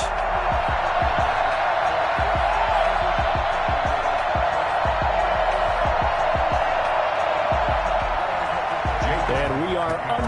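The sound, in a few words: stadium crowd cheering in Madden NFL 21 video game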